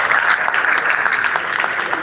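Sustained audience applause at a trading expo, many hands clapping in a steady, full wash with a few voices faintly mixed in.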